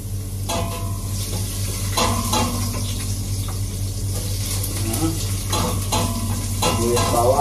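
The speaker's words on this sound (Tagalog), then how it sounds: "So gigisa na tayo, mag-isa." Close, loud sautéing in a pan, with a constant sizzle overlaid by repeated scraping and stirring strokes of a utensil against the metal and no speech over it.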